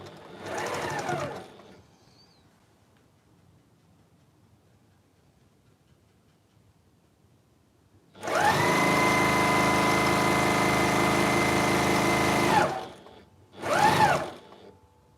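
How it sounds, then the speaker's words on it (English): A sewing machine stitches down the side of a fabric storage pod. There is a short burst, a quiet pause, then a long steady run of rapid stitching and a final short burst, all close and without talk. "we're now sewing all the way down this side over here"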